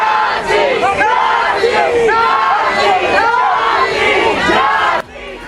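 A large crowd of protesters at the Bishop Henry Whipple federal building in Minneapolis shouts slogans against ICE at night, a loud, continuous mass of overlapping voices rising in rhythmic chants before dropping off sharply near the end.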